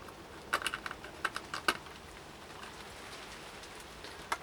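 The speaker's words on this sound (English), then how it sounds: "Apologies if you can hear wind and rain on the outside." Rain from a storm patters outside a UK studio, a faint steady hiss with scattered sharp drop taps, quiet and distant with no talk.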